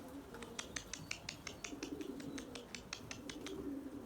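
Male Erzurum white pigeons coo to females in a loft, giving a series of soft, rhythmic calls at a moderate distance, with light clicks and rustles between them.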